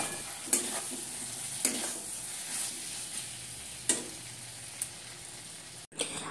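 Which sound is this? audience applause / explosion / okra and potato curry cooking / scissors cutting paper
okra and potato curry cooking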